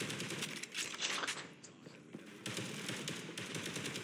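Punisher gunfire in the hero shooter Marvel Rivals rattles in fast, continuous automatic bursts with a crackly texture and a few stronger shots, under busy game noise.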